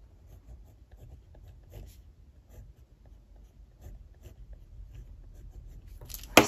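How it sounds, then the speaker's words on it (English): Pentel Energel gel pen writing on paper, close and quiet, with soft scratchy strokes in short irregular bursts and a brief louder knock at the end. "So let me just write, here's the Pentel Energel."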